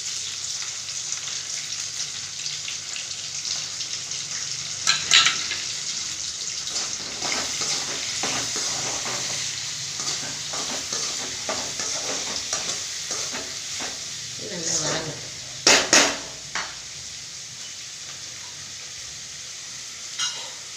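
Tomatoes sauté in a pan with curry leaves, green chilies, cinnamon, cloves and cardamom, giving a soft steady sizzle with occasional clinks and stirring scrapes from a spoon.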